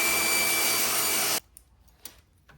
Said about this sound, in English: First I'll rip the pieces to 3 1/2 inches wide.